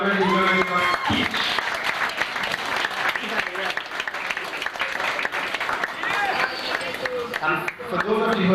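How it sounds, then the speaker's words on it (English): Wedding guests break into loud, sustained applause and cheering after the bride is introduced, with voices talking and calling out over the clapping. "Give her a round of applause,"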